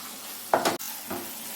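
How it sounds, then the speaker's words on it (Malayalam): A spoon stirs thick ragi halwa with ghee in a pan, giving one brief scraping sizzle followed by a softer second stir over a low background hiss. "ഇളക്കി കൊടുത്തുകൊണ്ടേയിരിക്കണം."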